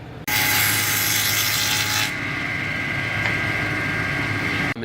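A table saw fitted with a dado blade cuts a half lap into a wood board with a loud, close, roaring bite that lasts about two seconds, then the blade keeps spinning with a steadier whine.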